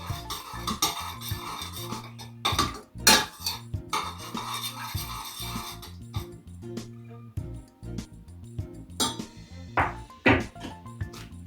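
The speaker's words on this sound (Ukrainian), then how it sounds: "перемішати." A metal spoon stirs sugar and salt into boiled water for a cabbage marinade, clinking and scraping against the bowl in irregular bursts with brief pauses between.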